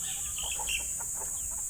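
Chickens cluck in short, scattered bursts on a farm among scattered mangoes, fairly close and moderately loud over a steady background hiss, with no talking.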